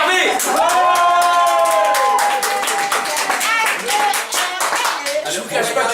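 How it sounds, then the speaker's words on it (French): A birthday party audience applauds Hervé with continuous close clapping, while cheering voices and singing tones rise over the hands. "Applaudissez Hervé."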